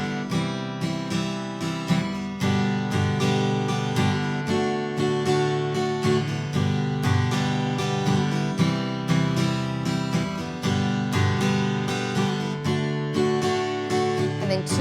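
Acoustic guitar strums the chorus of a song, starting on G, in a steady, even rhythm of repeated chord strokes, close and clear with no voices.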